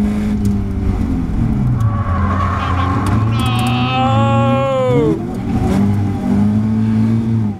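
Caterham Academy race car at Brands Hatch circuit, a loud continuous engine drone recorded onboard with pitch sweeping up and down through gear changes and a brief tire squeal, with commentary talking over it.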